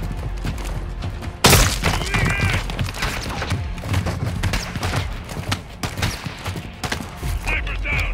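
Gunfire in Call of Duty Modern Warfare 2 in Mexico, a sharp loud crack near the start followed by scattered shots and battle noise, with voices shouting over it.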